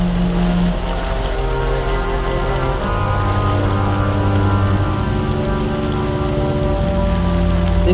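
Heavy rain pours steadily onto flooded streets in Raniganj, West Bardhaman, a continuous dense wash of drops close by that never lets up, with faint tonal hum beneath.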